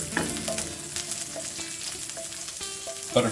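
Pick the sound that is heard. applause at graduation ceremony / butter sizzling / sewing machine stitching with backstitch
butter sizzling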